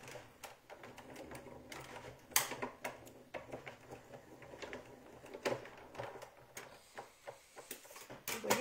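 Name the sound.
Big Shot die-cutting machine cutting paper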